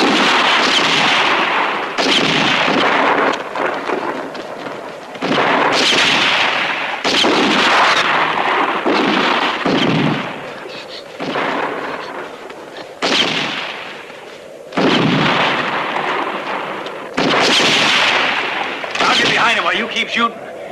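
Heavy battle gunfire in a 1975 war film: loud, booming volleys and blasts recur every few seconds, with shouting and talk between them.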